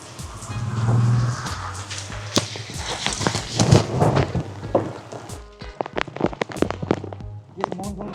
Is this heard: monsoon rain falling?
yes